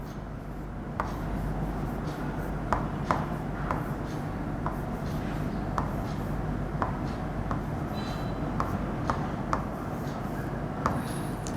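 A pen writes a Bengali word by hand, giving faint scratchy strokes with small taps at irregular intervals over a steady low background hum.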